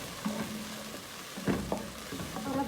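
Vegetables including capsicum, with a little salt, sauté in a pan for white sauce pasta, giving a soft steady sizzle with a few stirring clatters, close and without talk.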